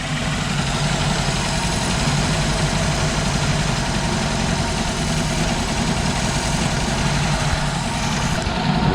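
A Ford Transit Mk2 camper van's engine idles steadily after starting, a dense, continuous low rumble with even vibration held at constant loudness close by, with no talking.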